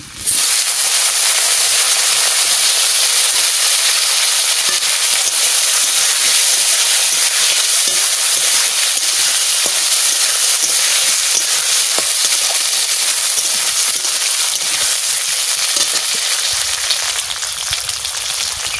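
Potatoes dropped into hot oil in a pan, a loud, steady, close frying hiss that holds nearly unchanged for the whole stretch, with no talking.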